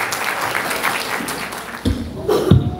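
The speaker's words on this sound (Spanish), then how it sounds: "¡Fuertes aplausos!" An audience applauds at a school expo presentation of a preschool class in Peru. Dense clapping fills the whole stretch, with a few louder claps and knocks near the end.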